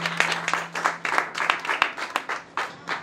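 An audience claps at a beauty institute graduation ceremony, with steady, fairly close applause from a crowd that goes on throughout, a low hum sitting beneath the clapping.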